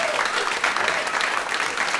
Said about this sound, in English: Give her a round of applause for helping out.